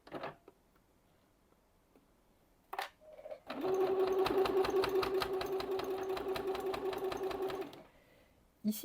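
A sewing machine stitches a glasses pouch. A few light taps come first, then a steady, loud whirring run of rapid stitches lasts about four seconds before it stops, with a brief click after.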